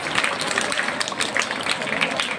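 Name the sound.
audience applause for the programme's president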